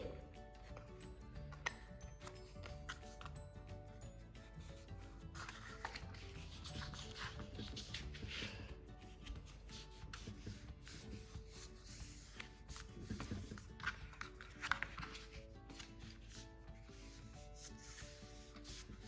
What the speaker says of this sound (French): On va bien entendu assouplir notre papier.